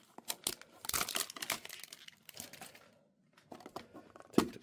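Pokemon 151 card packs being torn open from a collector tin, crisp crinkling and tearing foil wrappers in close, irregular bursts with brief pauses.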